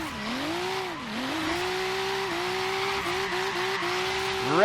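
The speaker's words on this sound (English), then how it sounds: "Redlining the hell out of this thing." A Volvo 850R engine in Forza Horizon 3 holds a steady, loud, high-revving whine near redline, the pitch dipping and climbing through gear changes before rising sharply at the end, with no talk over it.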